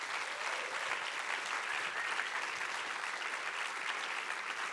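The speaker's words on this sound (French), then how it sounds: "on applaudit Jean-Pierre" Steady applause from a hall audience for an award winner at a French film festival closing ceremony, an even, continuous wash of clapping heard at a moderate distance.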